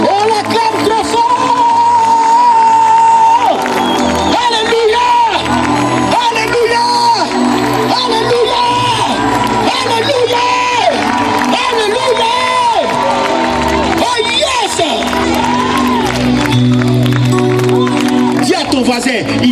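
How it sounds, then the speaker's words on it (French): A church congregation cheers and acclaims loudly in praise, a dense, sustained roar of voices and shouts under music and a speaker's voice, continuous throughout. "Acclamez Jésus-Christ de Nazareth. On l'acclame très fort."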